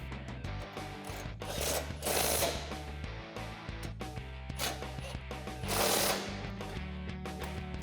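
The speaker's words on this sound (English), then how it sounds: "we can tighten down these 2 brackets with a 16mm socket and wrench" A 16mm socket and wrench tighten bracket bolts on a stainless steel Barricade 3.5-inch bull bar fitted to a 2016-2020 Toyota Tacoma. The ratchet clicks close and rhythmic in several swelling runs, each broken by brief pauses.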